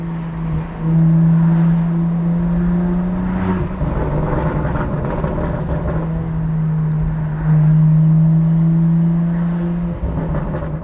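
BMW F87 M2 CS with a newly fitted aftermarket exhaust, a steady loud engine drone that holds and swells slightly, rising around midway and again later, close and continuous with no talk.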